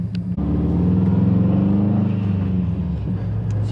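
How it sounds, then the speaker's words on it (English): A Stage 2 tuned 2019 Subaru STI idles with a deep, loud exhaust rumble, then takes a slight rev that swells and settles, the engine droning steadily close by with no talking. "if you just give it a slight rev, see, goes up just like that"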